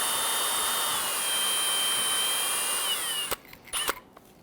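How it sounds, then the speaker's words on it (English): Aerosol brake solvent hisses steadily into the port of a brake caliper from a Dodge Charger during a front brake job, then cuts off abruptly into a few short sputtering bursts. "I'm going to go ahead and spray some solvent inside the port."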